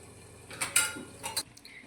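A metal lid is set onto a cooking pot of onions for a peas and potato curry, producing two or three faint clinks in a quiet kitchen.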